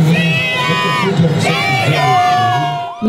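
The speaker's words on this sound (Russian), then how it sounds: "Громкие крики «Россия» были слышны и в городе-герое." Large crowd of football fans loudly chanting and cheering "Russia" in a host city during the 2018 World Cup, a dense, sustained roar of many voices that swells and holds for several seconds.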